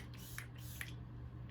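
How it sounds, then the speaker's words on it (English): Tarte Stay Spray setting spray mists onto a face in two short soft hisses, close and quiet, over a faint background hum. "So now I'm going to take another setting spray."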